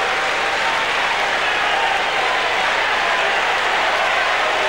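Spectators at a 1994 world championship pétanque final applaud a shot, a dense steady wash of clapping from a crowd that holds level throughout without pause.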